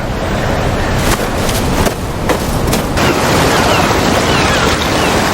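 Ocean waves wash onto a beach in the Godzilla Minus One film, a loud, continuous roar of surf and wind with a few brief swells rising over the constant rush and no voices.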